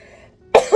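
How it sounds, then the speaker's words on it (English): A single person's cough bursts out near the microphone, a short harsh double burst after a moment of quiet. "Excuse me, I have a cough."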